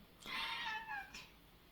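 A clingy rescue cat lets out a single drawn-out indoor meow with a brief second tail at the end, faint and close, no speech.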